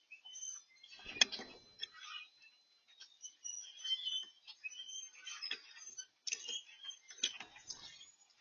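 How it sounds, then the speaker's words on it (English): Common grackle and red-winged blackbird at a backyard feeder in Massachusetts in December, giving scattered chirps and ticking calls, fairly faint and intermittent, with quiet gaps between them and no talking. "The grackle is really taking over this feeder, but this red winged blackbird, he's not about to be thrown out."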